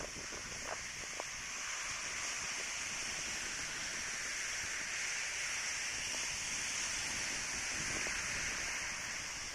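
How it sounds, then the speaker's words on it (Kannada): Strong waves on Maravanthe beach in Kundapura, Udupi, Karnataka: a constant, broad surf wash, fairly faint and distant, steady with no clear breaks, and no voices. "ತುಂಬ ಫೋರ್ಸ್ ಇರೋವಂಥ ಅಲೆಗಳು ಬರ್ತಿರ್ತವೆ."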